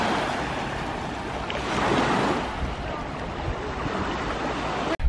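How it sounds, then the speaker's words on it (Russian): Sea waves at Saint Petersburg wash steadily onto the shore with a broad, continuous surf roar mixed with wind buffeting the microphone, no voices heard. "Вот такое вот, друзья, у нас есть море в Санкт-Петербурге."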